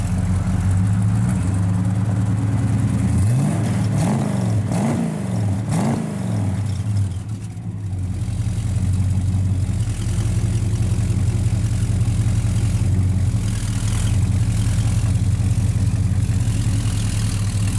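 A 1966 Chevrolet Chevelle 396 with a 4-speed, factory exhaust manifolds and 2.5-inch dual exhaust, loud and close, blips the throttle in a few quick revs, then settles into a deep, steady idle rumble.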